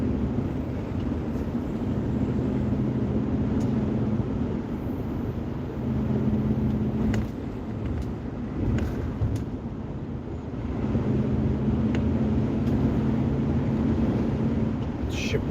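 A car cruising along the road, with steady broadband engine and tyre rumble close inside the cabin and a low drone holding throughout, dipping slightly midway before swelling back.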